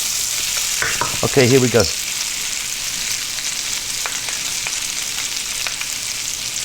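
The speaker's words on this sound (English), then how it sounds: "we're going to fry this around for about 4 minutes in this pan. Keep it moving pretty much all of the time." Pork ribs fry and sizzle steadily in a hot wok, a loud continuous hiss. They are stirred and tossed throughout, with a short burst of metallic clatter near the start while someone briefly speaks.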